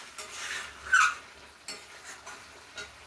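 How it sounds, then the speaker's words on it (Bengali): Meat and cauliflower curry cooks in a pot on a gas stove, giving a few scattered, moderately loud scrapes and stirring clinks over a faint, steady background hiss. "দেখো, এই দেখো উনানের মধ্যে কিরকম রান্না করতেছে।"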